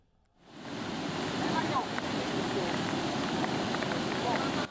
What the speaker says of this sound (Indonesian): Banjir menerjang jembatan Sungai Kalibokong di Desa Sawaran Kulon, Kecamatan Kedung Jajang, Lumajang, Sabtu petang.